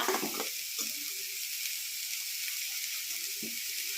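Leaves for pathila thoran, including kachil (yam) leaves, sizzle in a hot pan as a steady hiss, with a few soft stirring clinks near the start and end.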